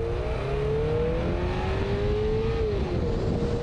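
2022 Toyota GR86 sports car accelerating in track mode with an automatic transmission, engine note rising steadily as it pulls, then a gear change near the end, heard from inside and fairly loud.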